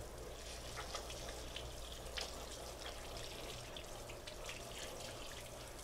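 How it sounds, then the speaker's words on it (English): Cold tap water runs steadily over scorched poblano peppers being rinsed in a sink, a faint continuous splashing hiss with small irregular drips and spatters, no voices. "Let's take our poblanos, put them under cold water."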